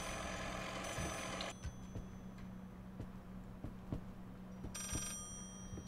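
An old telephone rings inside the horror video game Layers of Fear, two separate bursts of shrill ringing with a quiet, ticking ambience between them.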